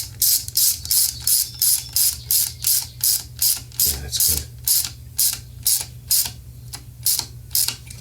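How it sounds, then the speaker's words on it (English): A quarter-inch drive ratchet snugs bolts by hand during an oil seal repair on a Craftsman riding mower with a Tecumseh engine: close, crisp bursts of clicking repeat in a steady rhythm, about twenty quick strokes with no talking. "I'm going to use my 1/4-inch drive and just snug everything."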